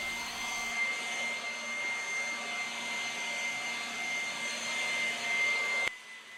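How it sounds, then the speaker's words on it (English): A Ryobi One Plus cordless leaf blower runs steadily, giving a continuous high whine with a thin airy rush that holds even, then cuts off sharply near the end. "Use the blower to move the debris away from walls and corners, under trees, wherever stuff is piled up."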